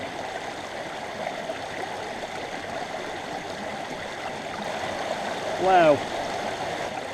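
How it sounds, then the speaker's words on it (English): Water streams steadily through a gold sluice outdoors, a continuous close rushing and gurgling flow, with a brief exclaimed word from a person near the end. "The sluice is running itself clean now, running out."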